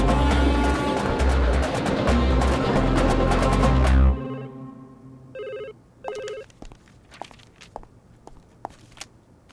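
A telephone rings in short repeated bursts after loud music cuts out, with footsteps and small clatters in a quiet room.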